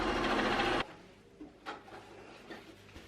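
A sewing machine stitches fabric for a sewn stair tidy bag, running loud and steady for under a second before stopping, followed by faint handling clicks and rustles.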